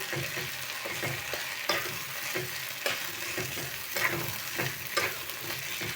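Banana peel mash frying in a pan with a steady sizzle, broken by repeated scraping and stirring strokes at a fairly regular rhythm, close and moderately loud, with no talking.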